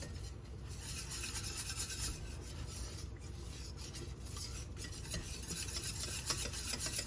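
Flour is stirred into melted butter in a pot to form a roux for mac and cheese, making a continuous soft scraping and rubbing with a faint sizzle underneath, close and quiet, with no speech.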